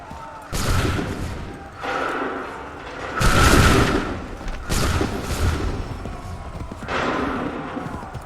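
Soldiers firing musket volleys in the video game Assassin's Creed 3, several loud booming bursts of massed gunfire at irregular intervals, each ringing out and fading before the next.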